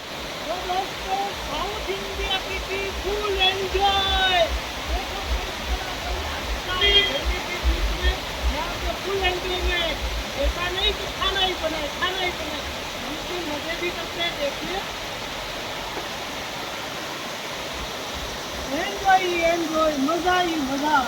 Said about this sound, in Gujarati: કેવું મસ્ત મજાનું આ ઝરણું જોવા મળી ગયું